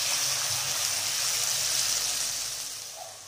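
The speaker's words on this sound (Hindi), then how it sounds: "दो कप पानी डालेंगे," Water gushes steadily into a pan on a gas stove while Maggi noodles are being made. The pour is close and loud, then tapers off near the end.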